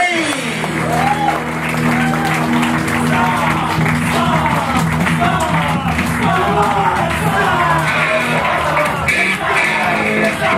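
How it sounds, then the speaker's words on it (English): A large crowd at a wrestling chat show claps and cheers loudly and continuously for Australian wrestler TNT, with whoops and shouts mixed into the dense, steady applause. "Let's start the clapping, start the applause"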